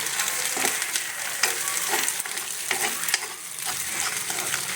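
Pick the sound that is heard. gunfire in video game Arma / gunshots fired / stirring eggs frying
stirring eggs frying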